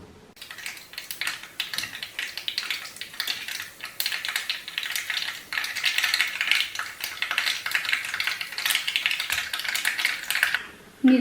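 Mustard seeds splutter and pop densely in hot coconut oil, a continuous crackling that swells and fades over several seconds before stopping abruptly.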